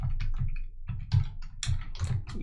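Typing on a computer keyboard while writing web development code: a quick, uneven run of close key clicks and taps with no talking.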